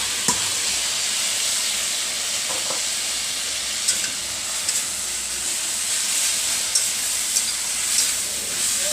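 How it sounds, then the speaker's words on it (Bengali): Drained water spinach greens frying in a pan over high heat, a loud steady hiss and sizzle with scattered small crackles and pops, close up and without talk. "এবার আমি জল ঝরানো শাকটা এতে দিয়ে দিচ্ছি।"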